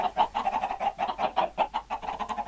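Minecraft chickens cluck in a quick, uneven series of short clucks, close and clear with no talking over them.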